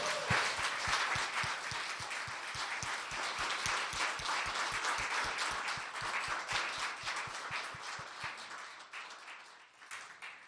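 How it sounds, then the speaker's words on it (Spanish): A congregation claps for the Lord at an evangelical church service, fairly loud and sustained for about ten seconds. The applause carries a strong even rhythmic beat and fades slightly toward the end. "Su Señor nos merece un fuerte aplauso"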